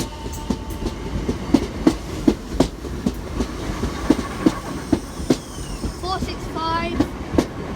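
A British Rail Class 465 electric train passing on the line to Hayes in Kent, with loud rhythmic clickety-clack of wheels over rail joints and a rising whine and squeal near the end.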